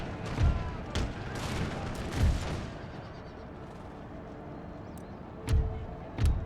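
Gunfire from units in an American Revolution video game battle: muffled musket volleys and booms in scattered bursts over a continuous rumbling battlefield din, distant and moderately loud.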